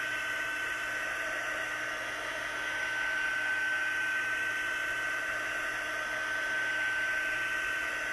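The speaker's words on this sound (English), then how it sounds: "Sorry about the noise, but it's a necessary thing whenever we use a heat gun." A heat gun blows steadily close by while melting embossing powder on cardstock, giving a constant loud whirring hiss with a faint high whine and no speech.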